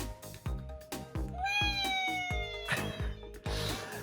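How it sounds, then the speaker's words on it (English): Cats meow in long rising and falling wails over a repeating low pulsing beat from something playing nearby, the cries fairly close and drawn out across the middle of the stretch. "I am driving the cats crazy with this, by the way, and Mary a little bit."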